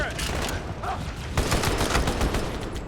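Rapid, sustained turret gunfire in Halo 2 at Cairo Station, loud and dense throughout, with a brief lull before it intensifies again.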